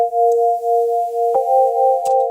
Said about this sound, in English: these two pigments that are set to left and right with just the sine wave sound.